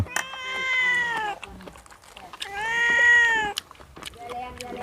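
A cat meows loudly and repeatedly at close range during a meal of steamed tilapia with lime, two long drawn-out calls separated by a woman's speech, followed by shorter cries.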